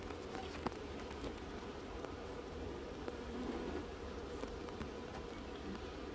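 Honeybees hum in a faint, continuous, diffuse buzz while a hive is being installed outdoors, with light rustling and occasional soft taps.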